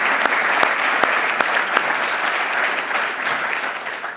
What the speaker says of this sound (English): can we give the parents and the mentors another round of applause?